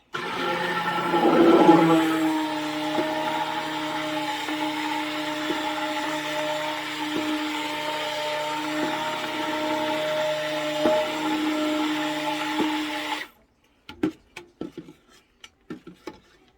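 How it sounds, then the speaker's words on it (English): A steady, whirring stick blender mixes hot process soap continuously for about thirteen seconds with a motor hum, then cuts off, followed by a few light clicks and taps. "I'm going to stick blend this until it forms a trace"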